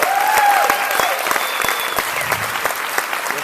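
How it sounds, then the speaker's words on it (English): An audience applauds Jeanette at a talk on Xophoria ingredients, the clapping steady and fairly close with individual claps audible, while a sustained tone and faint voices drift over it. "And an applause to the common sense formulator,"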